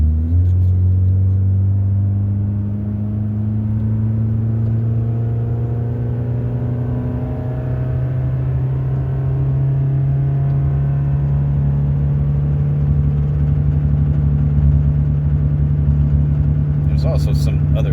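A car engine drones steadily and its pitch slowly climbs as it accelerates, a loud close rumble with a brief clatter near the end.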